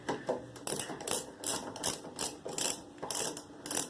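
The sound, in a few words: ratchet turning while working on Cub Cadet carburetor linkage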